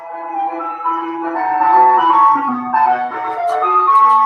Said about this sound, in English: here's the ice cream truck